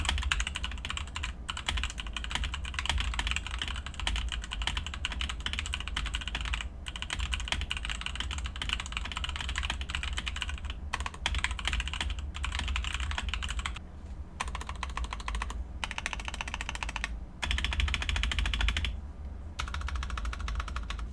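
Rapid typing on a Leaven K780 mechanical keyboard with pre-lubed stabilizers, a dense stream of close, crisp clacks with a few short pauses, loud and alone without talk.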